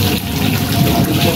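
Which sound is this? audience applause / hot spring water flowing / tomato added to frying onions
hot spring water flowing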